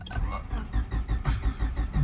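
An older-model car with a weakened engine cranks in a rapid, uneven churning rhythm that sputters and tries to catch, close and fairly loud, with a voice talking over it.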